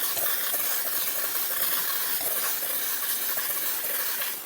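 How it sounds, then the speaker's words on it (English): Steady close hiss of a steamer blowing into a microfiber towel, continuous and even for several seconds with no talking. "Point the steamer into a microfiber towel."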